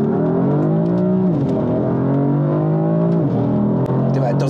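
A loud BMW sports car engine, apparently modified, climbs in pitch under hard acceleration, and the pitch drops sharply twice as it shifts gears.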